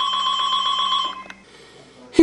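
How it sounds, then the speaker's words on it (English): Bell chimes ringing in a comedic Frankenstein stage scene, a sustained, trilling ring for about a second that then cuts off, followed by a quieter lull and a sudden sharp sound at the end. "Oh, the ringing!"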